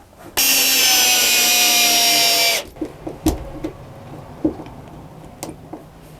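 A power drill whirs loudly for about two seconds and stops, followed by scattered clicks and knocks of handling in a workshop.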